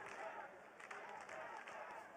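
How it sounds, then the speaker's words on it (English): Crowd noise at a college lacrosse game between Syracuse, Loyola and Maryland, a steady distant roar of cheering with a few sharper bursts, alone and fairly faint throughout. "Crowd getting into it."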